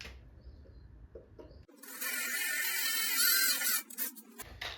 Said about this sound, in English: mark what seems to be the center and drill